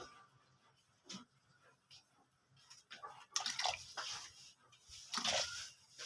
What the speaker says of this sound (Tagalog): maglalagay lang tayo ng konting soy sauce